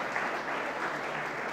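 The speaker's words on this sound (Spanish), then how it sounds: "Denle un aplauso al Señor." A church congregation claps together during a sermon, a dense, even wash of many hands sustained for the whole short stretch.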